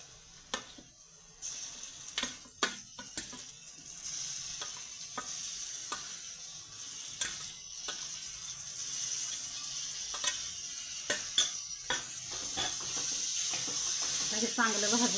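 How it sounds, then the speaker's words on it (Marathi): Finely chopped tomatoes sizzle steadily in hot oil in a pan for paneer bhurji, a continuous frying hiss broken by frequent sharp spatula scrapes and knocks as they are stirred. "हे चांगलं भाजून घेते मी"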